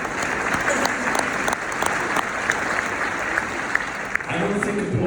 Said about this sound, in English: I don't think applause is the right response for me.